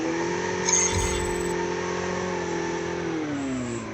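A motorbike engine in the Call of Duty Mobile video game revs with a steady, droning tone that holds, then dips in pitch, loud and close with no talk over it.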